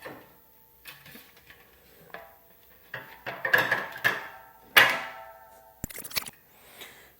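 A bicycle wheel is flipped over in a truing stand, giving scattered metallic clinks, knocks and rattles at irregular moments, each a brief, close impact with quiet between.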